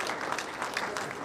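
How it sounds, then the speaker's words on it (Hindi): An audience at an Indian event gives warm applause for an award announcement, dense continuous clapping with a voice faintly under it. "जोरदार तालियों के साथ इनका स्वागत करेंगे"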